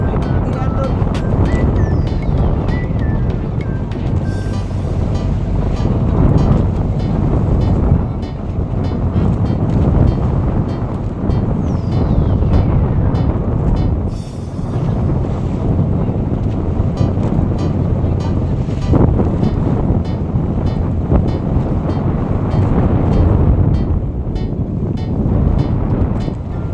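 Pump boat crossing rough sea between Talikud and Kaputian on Samal, with heavy wind buffeting the microphone and a constant roar of engine and waves throughout, loud and close.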